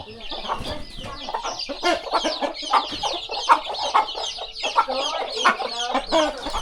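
Chickens cluck busily in front of a rural house in southern Laos on a morning, many birds overlapping in dense, continuous chatter with occasional louder calls, fairly close, with no talk over them.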